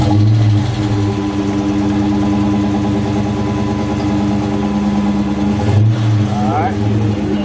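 A car engine cranks and runs at a steady, loud idle, its low droning hum continuous throughout, with a brief shift near the end.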